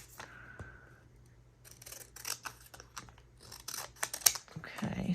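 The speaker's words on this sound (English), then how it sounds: "So I'm going to cut it apart and just kind of keep the front of it" Scissors cutting apart a paper page: a few soft, close snips and crisp rustles at irregular intervals, with a brief tone near the start and handling noise toward the end.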